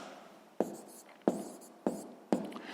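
Pen writing on paper during a sixth-grade maths exercise, four short scratchy strokes at a close, quiet level with no voices.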